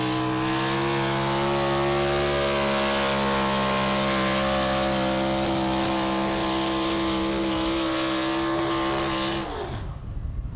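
A loud, heavy pulling-tractor engine roars at full throttle during a tractor pull at the NHRDA World Finals in Ennis, Texas, steady and sustained for about nine seconds, then cuts off abruptly near the end.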